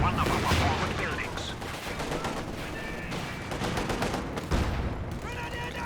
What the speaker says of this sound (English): Looks like they're shooting at the bunker though instead of the assault greens